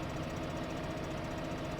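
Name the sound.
tractor engine in video game Farming Simulator 15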